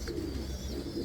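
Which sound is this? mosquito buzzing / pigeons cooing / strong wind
pigeons cooing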